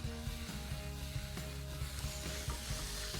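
Two-inch cubes of beef shoulder or chuck sizzle in a pot with spices for a Sri Lankan curry, a steady crackling fry with scraping stirs, close by and without talk.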